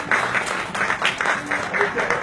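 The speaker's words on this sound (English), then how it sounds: "Let's give her a hand clap" Audience in a Microsoft store claps for a woman, a short burst of scattered hand claps mixed with crowd voices and talking.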